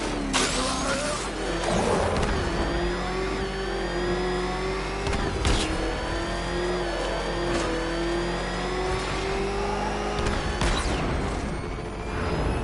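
A car engine in the video game Batman: Arkham Knight roars and revs continuously, its pitch rising and falling, with a few sharp bangs cutting through.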